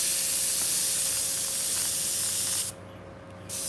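An airbrush sprays water in a steady, close hiss that cuts out for about a second before resuming.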